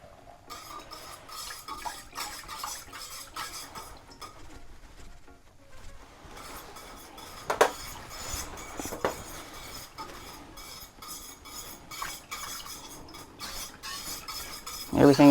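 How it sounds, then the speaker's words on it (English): Hair conditioner ingredients are stirred by hand in a small batch, giving a steady soft swirling and scraping close by with occasional sharper clinks against the container. "I'm just going to keep stirring until it's dissolved"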